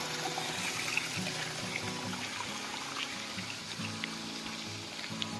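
Heavy monsoon rain pours down steadily with water running and splashing nearby, a dense, continuous hiss and patter holding at an even loudness throughout with no talking.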